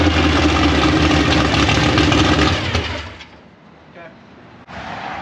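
An engine in a garage project build runs loudly at first, then cuts out suddenly partway through after a kill switch is used, leaving quieter background sound and a brief knock near the end.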